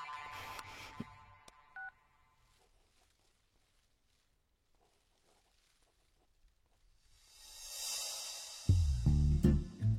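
Telephone number being dialed in an office, a quick cluster of keypad tones near the start, then a hush before a rising hiss and louder noise at the end.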